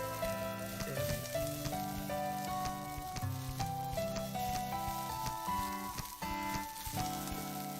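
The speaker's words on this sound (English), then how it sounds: "Ray was frying something up in a skillet." Food sizzles and fries in a skillet, a steady crackling hiss running beneath continuous background music with no talking.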